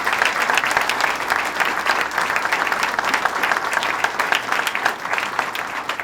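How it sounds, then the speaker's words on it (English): Crowd applause fills a 2016 Great New York State Fair announcement event: steady, dense clapping from a large gathering, loud and sustained throughout with no break. "let's give them all another round of applause."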